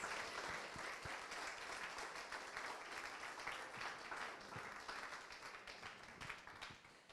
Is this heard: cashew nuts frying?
no